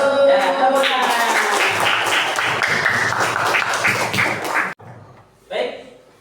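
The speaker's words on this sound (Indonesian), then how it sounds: "Ya, tepuk tangan." A classroom of students claps hands together in a quick, lively burst during an Islamic religious education lesson. The clapping lasts a few seconds and stops abruptly, followed by a brief voice.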